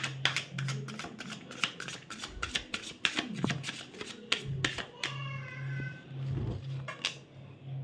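Tarot cards are shuffled and drawn by hand, with a quick series of crisp riffling flicks, then a softer pause and a few more close card snaps, fairly faint under a low hum.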